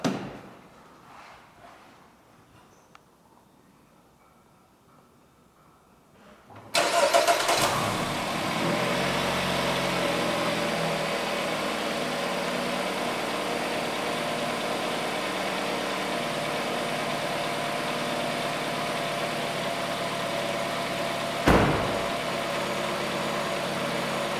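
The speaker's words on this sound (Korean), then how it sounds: "시동을 걸고 제가 보여드리도록 하겠습니다" A 2017 Jeep Renegade 2.4 Longitude gasoline compact SUV with an automatic gearbox starts up after a quiet stretch, then settles into a steady, even idle that runs to the end, with one brief louder bump near the close.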